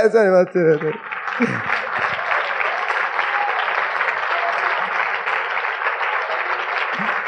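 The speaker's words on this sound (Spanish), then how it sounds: "Del otro aplauso." A church congregation bursts into applause after a brief spoken phrase, the clapping dense and sustained for several seconds at an even level, with a few stray voices underneath.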